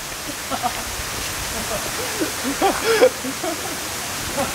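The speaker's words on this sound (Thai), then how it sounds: "ตอนนี้เราเจอแค่ลำธารอยู่นะคะ" Steady rushing water from a stream flowing near Pong Phrabat waterfall, a broad continuous wash with soft voices briefly rising over it partway through.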